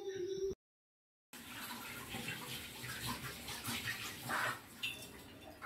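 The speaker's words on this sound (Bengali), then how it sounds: "এখন বাসন কুসন যতগুলো রান্নার বেরিয়েছিল সেগুলো সমস্ত ধুয়ে রেখে দিচ্ছি।" Cooking dishes being washed under a running tap, a steady splashing flow with clinks and a brief gap early on, no talk.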